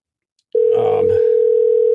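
A telephone ringback tone on an outgoing call: a steady, loud, unbroken tone that starts abruptly after a brief mechanical click and a short burst of handling noise, then holds alone without a break.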